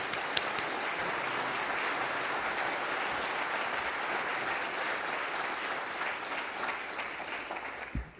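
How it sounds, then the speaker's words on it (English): A county State of the County address audience gives Supervisor Walker a sustained round of applause, a thick even roar of clapping held at one level throughout and easing slightly at the very end. "Let's give a round of applause to Supervisor Walker"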